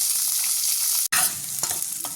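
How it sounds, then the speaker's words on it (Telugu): Loud, steady sizzling of chopped onions frying in hot oil, with a brief break and some stirring clatter. "ఉల్లిపాయ ముక్కలు దోరగా అయ్యేంత వరకు వేయించుకోవాలి"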